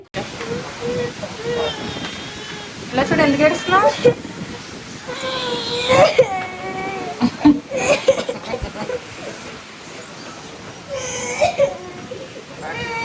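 A young child wails loudly in repeated bursts, voice rising and falling, with other voices and background noise around the cries.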